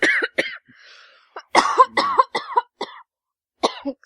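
Several harsh coughs come in bursts, a couple of clusters separated by pauses, close and fairly loud with no talking.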